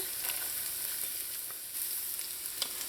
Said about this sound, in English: So I'm just going to let this saute in here until the onion starts to turn translucent.